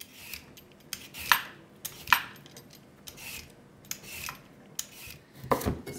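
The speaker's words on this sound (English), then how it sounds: "So the first step is to peel and slice the sweet potato." A sweet potato is peeled and sliced on a kitchen surface for oven-baked chips, giving intermittent close scraping strokes and sharp knife-and-board clicks spaced about a second apart, with quiet pauses between.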